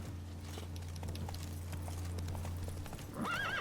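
Roach the horse trotting in The Witcher 3 video game, a steady close clip-clop of hooves over a low engine-like drone, ending in a bright whinny.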